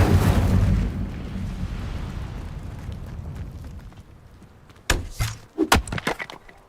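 Incendio fire spell in Hogwarts Legacy: a loud roaring whoosh of flame that fades over several seconds, then a cluster of sharp crackling bursts and pops.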